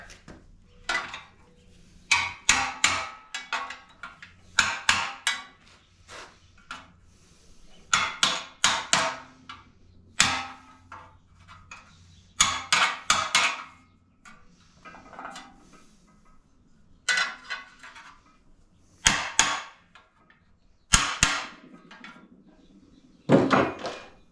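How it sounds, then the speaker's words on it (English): Parts on a VW 1835cc engine are beaten back with a hammer: loud, close metallic blows in quick clusters of two to four strikes, separated by short pauses. "before I do any cutting, let's see if I can't beat those back a little bit"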